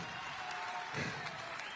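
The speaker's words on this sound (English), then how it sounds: "And obviously, they applauded." Applause from the crowd at a women's MMA bout, a steady, fairly faint patter of many hands clapping heard at a distance in an arena setting.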